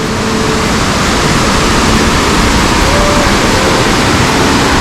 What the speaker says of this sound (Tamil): ஐ திங்க் தண்ணியோட ஃபோர்ஸ் அதிகமாக இருக்குது. ஃபால்ஸ் கிட்ட நெருங்கிட்டோன்னு நினைக்கிறேன்.